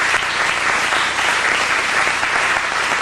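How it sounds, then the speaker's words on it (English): A loud, dense roar of applause from a lecture-series crowd fills the whole stretch, continuous and close with no pauses or talking over it. "give yourselves a round of applause because you made this happen tonight"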